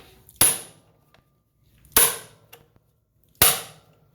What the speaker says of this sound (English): you're going to wail on it with a hammer here